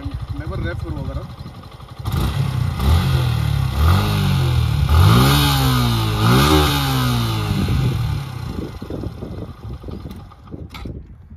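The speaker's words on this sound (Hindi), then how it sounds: "आइए मैं आपको एक बार से एग्जॉस्ट नोट सुनाता हूँ एक बार।" A Suzuki Gixxer SF motorcycle with a dual exhaust revs up several times from idle, each blip rising and falling sharply, loud and close, then settling back down.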